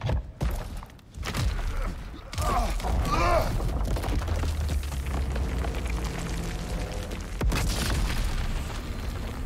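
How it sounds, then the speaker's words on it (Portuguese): A burst of light explodes in God of War Ragnarok, a deep booming blast with a rumbling low tail that rolls on for several seconds amid game ambience, after a sharper thump at the start. "logo uma explosão de luz"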